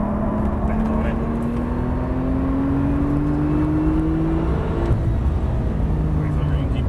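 A Porsche 911 Turbo on track, its engine note climbing steadily under throttle, then dropping as the car lifts, loud in-cabin drone with a driving coach talking over it.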